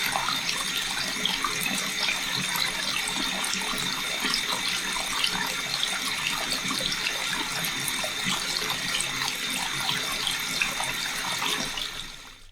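Water runs steadily from an LED-lit faucet with a temperature sensor, a continuous loud hiss and splash into a sink that cuts off near the end.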